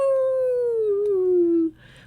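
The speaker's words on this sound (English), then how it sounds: "Coyote saw his handiwork and began to howl" A single long coyote howl in a narrated story about a coyote placing the stars: one clear, steady tone that slowly falls in pitch for under two seconds, then cuts off.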